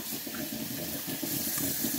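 Running tap water during a hair wash at a sink, a steady close gush of flowing water with slight fluctuations as it splashes, continuous with no speech.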